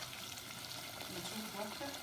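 Hot water poured into a sizzling onion-and-garlic base for Tunisian barley and fish soup, a steady fry-and-hiss wash with a soft bubbling stir, close and continuous with no talk.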